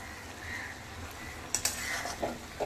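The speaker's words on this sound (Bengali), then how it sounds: "কিছুক্ষণ ঢেকে রেখেছিলাম, একবার নাড়িয়ে দিতে হবে।" Vegetables for bhoger labra are stirred in a pot as they boil. A soft, steady simmering hiss runs throughout, and a few light scrapes and clinks of the spoon against the pot come up near the end.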